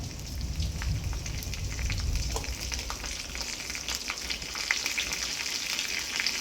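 Dried red chillies and curry leaves crackle and sizzle in hot oil for egg gravy, a dense, continuous spattering fry close up, with no voices over it.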